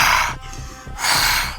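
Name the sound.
narrator imitating heavy breathing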